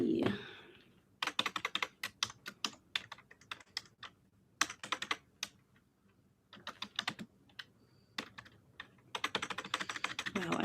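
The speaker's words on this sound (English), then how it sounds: "I haven't typed on this keyboard in so long" Typing on a computer keyboard, close and clear, in irregular bursts of rapid key clicks separated by short pauses, with a faint sound at the very start.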